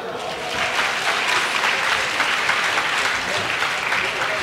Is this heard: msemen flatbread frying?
no